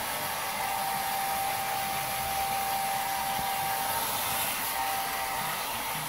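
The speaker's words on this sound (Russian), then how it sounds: "Фен." Steady, continuous whir and hiss of a hair dryer running at constant power, close and loud, with no pauses.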